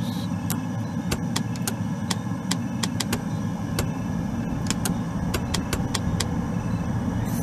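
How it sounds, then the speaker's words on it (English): Engines of a Halo dropship in Microsoft Flight Simulator run at a steady low rumble throughout, with scattered sharp clicks over the continuous drone and no voices. "Engine starters."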